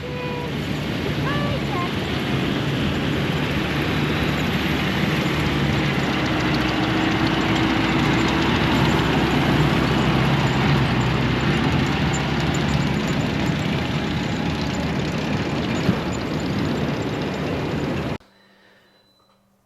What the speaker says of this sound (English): There's a John Deere on the beach.